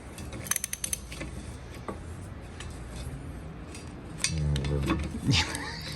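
A rusted antique Swift Mill coffee grinder, about 150 years old, creaks and clanks as its mechanism is forced to turn, with scattered metallic ticks and scrapes, a louder grinding stretch near the end, and people talking over it.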